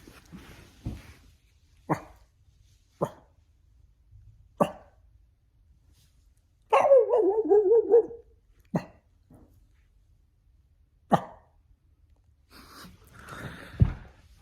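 A dog gives a series of sharp, separate barks at home, spaced irregularly with quiet gaps between them, plus one longer whining, yelping burst near the middle; close and fairly loud, with no talking.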